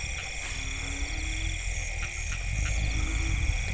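Frogs croaking at night after heavy rain, a dense repeating chorus of croaks and buzzy calls over a steady drone of insects, with several calls close by.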